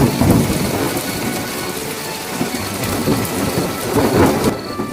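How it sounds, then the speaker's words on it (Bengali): Heavy rain falls in a cartoon scene, a dense steady downpour with rolling rumbles of thunder swelling near the start and again toward the end. "হঠাৎ আকাশ ভেঙে বৃষ্টি নামল।"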